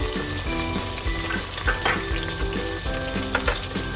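Green chillies, ginger garlic paste and vegetables fry in a pan for veg biryani, a steady close sizzle with occasional stirring clinks and scrapes, while music plays underneath.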